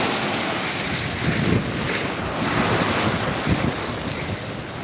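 Sea waves breaking on the shore at Gandhi Beach, Pondicherry, a steady broadband wash with a few swelling surges, mixed with gusty wind noise on the microphone and no talking.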